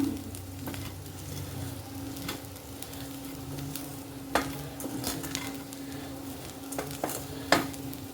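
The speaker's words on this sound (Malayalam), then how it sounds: "ഇനി നന്നായിട്ടൊന്ന് ഇളക്കണം കേട്ടോ" Cooked beans stirred in a hot pan over a low gas flame, a steady close sizzle under repeated scraping and clinking of a spoon against the pan, with a few sharper knocks.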